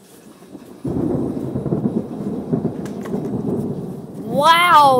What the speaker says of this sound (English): I've never recorded thunder before